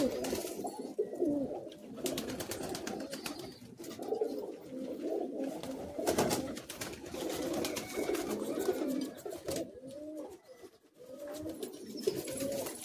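Madrasi black-eyed pigeons in a Kolkata loft keep up a steady, overlapping cooing, several birds close by with soft throaty rolls running continuously and no voices heard.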